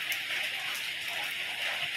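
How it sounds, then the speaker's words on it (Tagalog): Heavy rain falling steadily during days of continuous downpour, a dense, even hiss that holds at a constant level throughout, with no voices. "Ayan guys, napakaulan ngayon."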